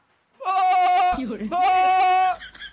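A goat bleats twice in long, wavering, nasal cries, loud and close, with a short rustle between the calls and a faint trailing bleat at the end.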